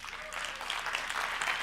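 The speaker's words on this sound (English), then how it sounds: "I want you to give them a round of applause," Audience applause in an auditorium during a speaker's talk, a steady, moderately close crowd of clapping hands filling the short moment without any speech over it.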